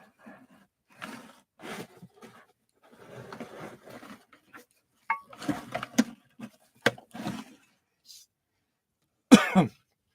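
Several scattered coughs and throat clearings, close and fairly loud, separated by brief quiet gaps, ending with one sharp cough.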